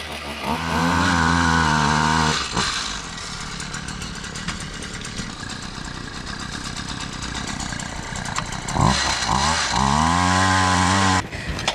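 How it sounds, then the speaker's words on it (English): A gas-powered auger drills planting holes in a landscaped yard, the small engine revving hard at the start and end with a lower chugging idle and grinding into soil between. "See, that's what's nice about using an auger."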